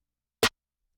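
A single layered snare drum sample strikes once, a short, sharp, dry hit standing alone in silence.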